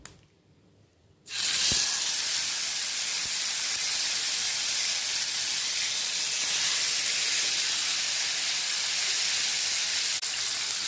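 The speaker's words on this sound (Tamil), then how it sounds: "எண்ணெய் சூடான ஒன்று மீனை அதில் ட்ரான்ஸ்ஃபர் பண்ணிடுவோம்." A masala-coated fish hits hot oil in a pan and bursts into a loud, steady frying hiss that carries on evenly after a quiet start.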